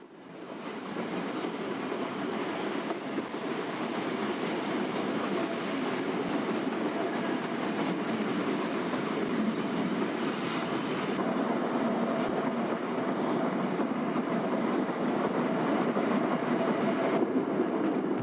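An Eritrean train on the restored railway rolls through arid country, its steady rumble and rattle holding loud and continuous from start to finish.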